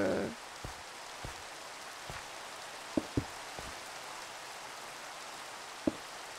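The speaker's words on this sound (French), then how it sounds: "il se met à pleuvoir maintenant" Rain begins falling outdoors where someone is digging: a soft wash of steady noise with sparse, distinct drops tapping a surface at irregular intervals, faint and with no voices.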